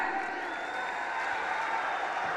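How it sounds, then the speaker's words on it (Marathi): A large crowd applauds at a political rally for Rahul Gandhi in Amravati, a steady, dense wash of clapping that holds evenly throughout. "राहुलजी गांधी या ठिकाणी आलेले आहेत आणि त्यांच्यासाठी जोरदार टाळ्या"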